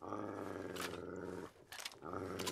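Dogmeat, the dog companion in Fallout 3, growls low and steadily through a raider-filled building, with a brief break before the rumbling resumes, loud and close over game sound.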